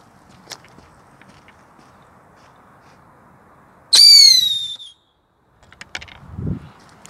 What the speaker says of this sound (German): wir machen hier nochmal so eine Pfeifrakete